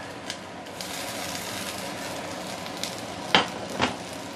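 Sauce hits a hot pan of lap mei fan, Chinese cured-meat rice, giving a continuous close sizzle with two sharp clatters of a utensil near the end.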